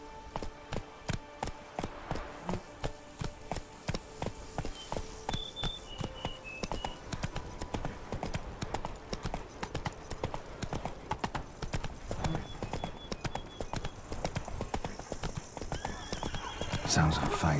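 A horse gallops in The Witcher 3: Blood and Wine, its rapid hoofbeats drumming steadily with a whinny partway through, while a voice speaks briefly over the hooves.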